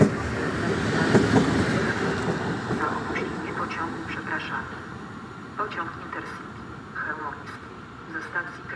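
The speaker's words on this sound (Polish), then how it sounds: "Wjeżdża pociąg Intercity Chełmoński relacji Kraków Główny Świnoujście." The Intercity train Chełmoński, running from Kraków Główny to Świnoujście, rolls into Goleniów station with a rumbling approach and faint wheel clatter, while a station announcer speaks over it.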